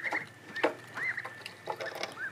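Soft irregular pecking and clicking taps of ducks' beaks picking at stones and brick, scattered close by over a quiet background with faint chirpy tones.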